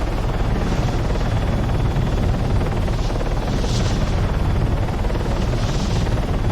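Military helicopter flying in Arma 3, a loud, constant thudding rotor and turbine roar that stays close and steady throughout, alone without speech.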